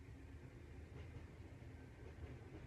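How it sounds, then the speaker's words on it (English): A distant train rumbles past as a steady, faint low roar with a soft rattle, no voices. "That's the sound of a train going by."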